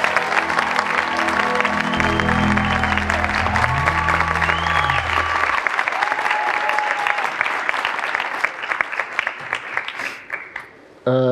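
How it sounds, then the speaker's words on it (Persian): Studio audience applause at a comedy competition show, loud sustained clapping from a large crowd with music playing underneath, fading out toward the end. "تشویقشون کنید لطفاً."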